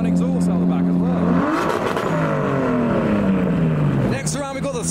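A car engine at the SEMA 2023 show revs hard in repeated sweeps, its pitch climbing and falling several times amid a noisy crowd.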